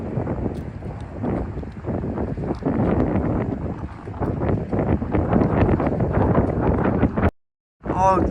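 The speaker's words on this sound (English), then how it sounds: "Oh, the wind has picked up." Strong gusting wind buffets the microphone outdoors on a frigid, sunny winter day on the Toronto waterfront, a continuous loud roar and rumble that swells and persists for several seconds before a brief dropout.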